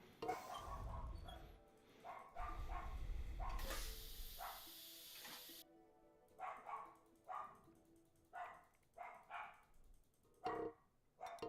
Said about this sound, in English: That's the dog's being all barky.